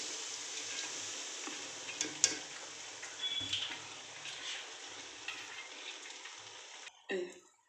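Egg biryani rice frying in a pan with biryani masala and fried onions, a steady soft sizzle running throughout with occasional stirring scrapes, fairly quiet and close, ending with a brief louder clatter.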